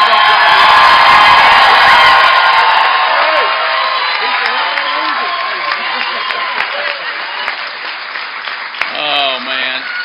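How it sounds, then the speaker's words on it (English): Loud crowd applause and cheering at a governor's victory celebration, a thick roar of clapping and whoops that slowly fades, with a few voices breaking through near the end. "How about a big applause for this bunch of"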